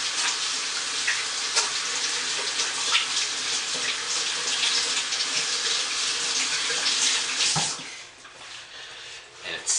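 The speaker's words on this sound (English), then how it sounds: "Let me rinse my hands off real quick." Running tap water pours steadily over hands being rinsed of soap lather after cutting a homemade soap, a loud continuous splashing hiss that eases off briefly near the end.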